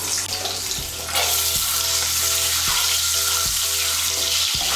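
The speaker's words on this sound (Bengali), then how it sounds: "আমি ডিম, আলু আর পটলগুলো ভেজে নেব" Eggs rubbed with salt and turmeric and lightly slit sizzle loudly in hot oil, a steady close-up crackle broken by regular soft knocks and stirring clicks.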